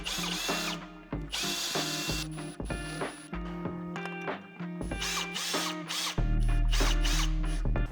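Power drill at low speed driving fasteners straight into a wood frame while mounting smart roller shades, heard as a series of close, loud whirring bursts with short pauses between them.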